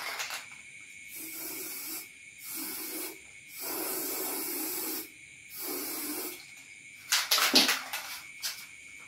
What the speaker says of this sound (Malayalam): മാർക്ക് ചെയ്തെടുക്കാൻ എളുപ്പത്തിന് വേണ്ടി നമ്മൾ സ്പ്രേ പെയിന്റ് വെച്ച് ചെയ്യുന്നതാണ്